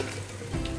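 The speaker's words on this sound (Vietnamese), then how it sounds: "Sau khi cái phần thịt vịt mà mình xào nó đã săn hết lên như vậy rồi nè" Duck meat stir-fried with lemongrass and garlic in a hot pan, cooked until the meat firms up, gives a steady close sizzle and frying crackle that swells slightly near the end, with no talking.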